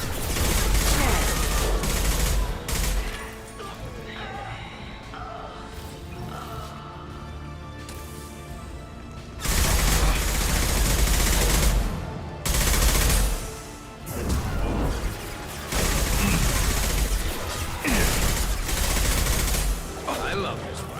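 Sustained rifle fire in the sci-fi shooter Mass Effect, loud bursts of rapid shots repeating in several bouts across the scene, mixed with game music and effects, with a voice talking over parts of it.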